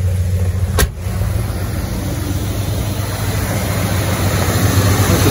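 A car engine with a Quadrajet carburetor idling at about 800 RPM, a steady, loud, even rumble with a single sharp click early on and no voices.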